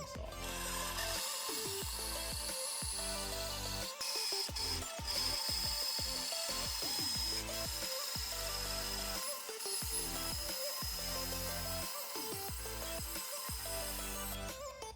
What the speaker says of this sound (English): We're going to head over to the bandsaw where we're going to cut to our line.